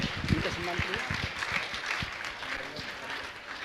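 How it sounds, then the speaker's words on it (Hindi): Applause from an audience at a Jain religious gathering with a monk, honouring a guest with a brisk, steady round of clapping and a few voices mixed in. "आप जोरदार ताली बजाकर इनका सम्मान करें"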